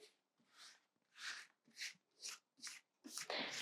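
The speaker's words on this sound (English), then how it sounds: "We're going to go ahead and shuffle again for the twin flames in this collective." Tarot cards shuffled by hand, a quiet close series of about seven soft riffling swishes in a steady rhythm, ending with a longer, louder burst.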